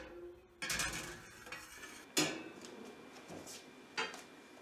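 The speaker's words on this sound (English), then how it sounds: "So I'm going to stir this up really good." Fabric dye is stirred in a pot, giving a few scraping, clinking knocks of the stirring utensil against the pot over a faint background hiss, with no talking.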